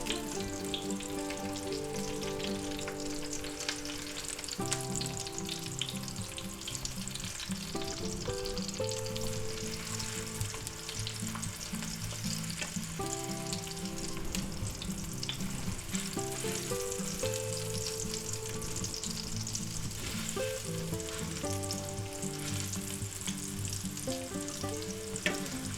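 Flipped sausages sizzling in a frying pan for a sausage and pepper sub, a continuous frying hiss running under prominent background music.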